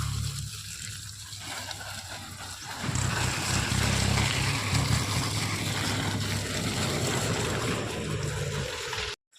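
Water gushes steadily onto mango and lemon plants outdoors, a loud broad hiss and splatter that starts a few seconds in and continues before cutting off abruptly near the end.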